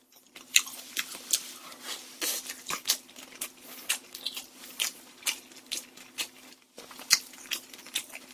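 Korean sundae blood sausage dipped in ssamjang being eaten up close, with soft, moist chewing and crunchy bites repeating in an irregular rhythm over a low steady hum.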